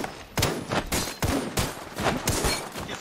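Gunfire in the video game Apex Legends comes in repeated sharp bursts of rapid shots with brief gaps between volleys, loud and close, with no voices.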